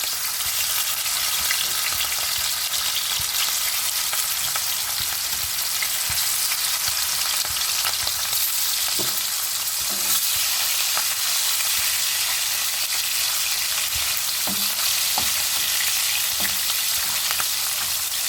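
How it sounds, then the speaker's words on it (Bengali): Katla fish pieces fry gently in hot oil with a loud, unbroken sizzle close up. Occasional soft knocks and pops rise above it, and no voices are heard. "দেখতে পাচ্ছ মাছগুলো হালকা হালকা ভাজা হচ্ছে।"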